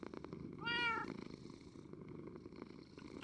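A cat in the game Minecraft purrs faintly and steadily, with a brief higher meow-like call near the start, heard alone at low volume.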